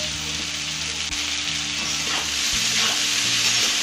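Cauliflower and carrot, along with beans, fry in a pan with an even close sizzle and a few soft stirring touches, and no one speaks.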